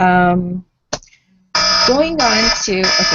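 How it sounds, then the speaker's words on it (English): A phone alarm goes off during a volunteer meeting, a steady harmonic electronic tone with wavering pitch near the start, then breaking off as a voice speaks over more tonal beeping. "that's my alarm to say we've hit the 1 hour mark"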